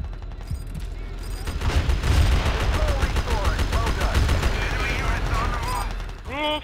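Grenade blasts and gunfire in the video game Battlefield 2 during a squad battle: dense bursts of shooting and booming impacts layered throughout, with players chattering over the combat.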